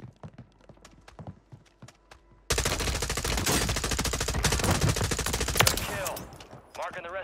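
Warzone 3 firefight with an M4A1 in play: light rapid shots at first, then a sudden dense, loud stretch of sustained automatic gunfire and impacts that rattles on for several seconds before tapering off.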